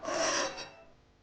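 Cardboard rasps and rubs in one brief close scrape as the box of a cordless circular saw is handled, then fades out.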